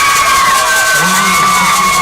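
A homecoming crowd at a high school football game cheers and whoops for a court member, with loud continuous shouting and high-pitched voices.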